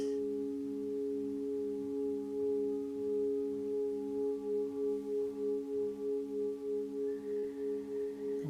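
Healing sound bath tones ring as sustained, pure pitches that hold steadily and pulse in slow, even waves, with a higher tone entering near the end, calm and close with no voices.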